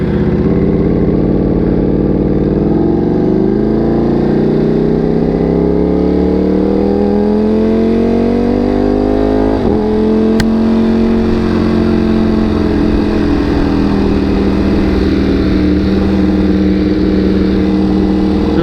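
Motorcycle accelerating onto a busy freeway in traffic, its engine revving up through rising pitch, shifting gear near the middle, then pulling steadily on, loud and close with no talk.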